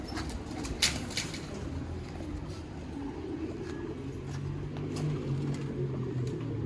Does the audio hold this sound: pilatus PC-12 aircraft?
no